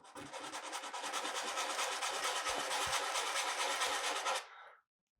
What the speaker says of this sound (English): I like wet sanding because it helps to keep the powders from the Sculpey from flying everywhere